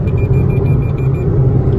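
A 2021 Suzuki Swift 4 in PACK trim accelerates on a German autobahn, with a loud, steady engine and road rumble filling the cabin throughout.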